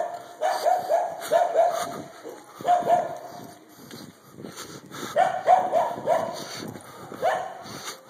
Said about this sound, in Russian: Собака гавкает.